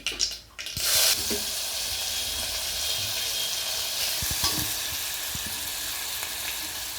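Onion drops into hot oil with asafoetida and bursts into a loud, steady sizzle after a short scrape, holding close and even with a few soft stirring knocks, no speech.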